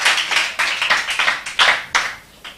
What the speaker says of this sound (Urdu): ان کے لیے بھرپور تالیاں ہونی چاہیے تاکہ ان کی حوصلہ افزائی رہے